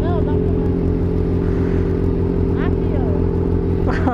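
Honda Hornet motorcycle with a modified exhaust idling loudly with a throbbing, rapid pulse, heard close and steady throughout, with brief background sounds over the engine.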